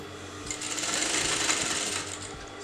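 Sewing machine stitching the neckline of a canvas kameez or kurti, a close, continuous fast whirring hum of needle strokes with a steady rhythm.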